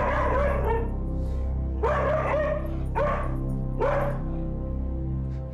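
Ruby, a fearful dog, lets out several sharp barks and yips in separate bursts, close and loud, some trailing into whimpery tones, with a low steady hum underneath.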